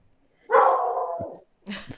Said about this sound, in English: That was my dog agreeing with me.